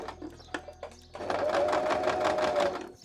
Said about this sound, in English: I'm going to go ahead and sew this onto the fabric right here